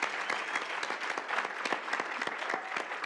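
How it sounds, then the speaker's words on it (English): Audience applause, a busy flutter of individual claps close by, steady and lively for a few seconds with no talk over it. "Let's give Hope a big round of applause"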